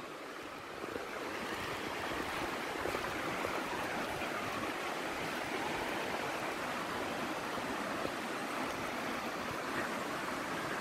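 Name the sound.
river water flowing and falling at tourist spot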